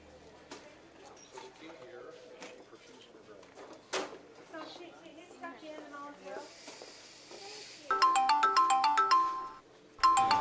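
A phone ringtone plays a bright repeating melody near the end, following voices talking and kitchen clatter, loud and close.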